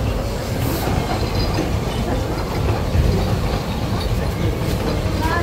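A train in Australia rolls past close and loud, with continuous rumble, wheel clatter and brief squeals that last the whole time.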